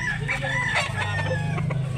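A backyard-bred rooster crows near and fairly loud, one drawn-out cock-a-doodle-doo with a few clucks around it, set against faint farmyard background noise.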